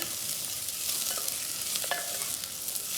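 Red capsicum stir-fries in a pan for a homemade sizzler, a soft, even sizzle with light stirring sounds, fairly quiet and uninterrupted by speech.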